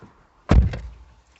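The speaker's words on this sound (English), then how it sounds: "We'll just shut the door." A Hyundai Ioniq car door shut once, a single solid thunk with a short rattle afterwards, heard close by in an otherwise quiet setting.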